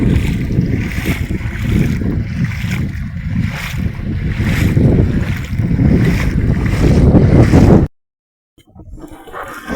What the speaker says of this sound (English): But I can feel my feet pushing through the water as I move.